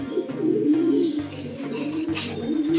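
Racing pigeons in a breeding loft coo close and loud, repeated low rolling coos in a steady rhythm, with fainter bird calls behind them.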